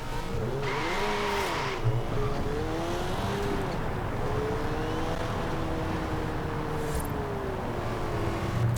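A modified Honda Civic Type R in the racing game Forza Horizon 4 drives hard, its engine rising and falling through repeated revs and gear changes, with some tire squeal along the way, loud and close throughout.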